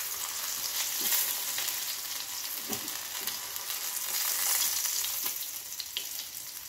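Okra sizzles steadily in hot oil in a pan, a close crackling hiss broken by a few soft stirring knocks, with no voices.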